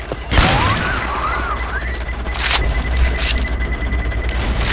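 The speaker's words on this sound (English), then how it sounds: "Throwing a pipe bomb!" A pipe bomb in Left 4 Dead 2 bursts with a loud boom amid chaotic gunfire and crashes, with a beeping tone and further blasts following.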